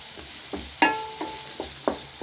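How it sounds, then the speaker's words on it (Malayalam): Paneer being stirred in a hot pan, a few scattered scrapes and knocks of a utensil against the pan at uneven intervals, one sharper ringing clang, over a faint steady sizzle. "ഒരു സൈഡിൽ കൂടെ ഇത് ഒന്ന് നല്ല ഇളക്കി കൊടുക്കണം."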